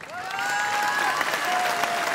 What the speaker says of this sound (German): begleitet werden wir schon mal von einem großen Applaus